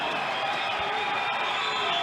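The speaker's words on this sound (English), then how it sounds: "My word, what a loud crowd for the first fight of the night." A loud crowd at a kickboxing fight cheers in a dense, continuous roar, with shouts layered over it and no letup across the whole short stretch.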